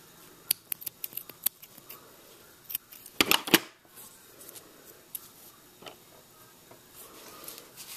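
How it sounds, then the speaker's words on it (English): Scissors cutting crocheted yarn close by, a few faint isolated snips and clicks, then a brief louder burst of cutting and rustling before more scattered soft ticks. "I'm just going to cut the rest of the yarn off."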